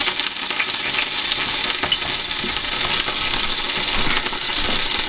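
Sausages frying in a pan of thick, reduced gravy give off a steady, bright sizzle and crackle, close and continuous, with occasional small clinks and stirring sounds and no talking.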